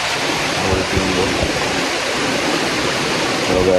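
Rushing water from a river pouring over stones in the Mocho Mountains hills, a steady, loud broadband roar close by with no pauses.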